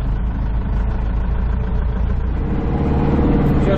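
A diesel tractor's engine drones steadily and close while it drives along a road, a deep continuous rumble with no letup that swells slightly louder near the end.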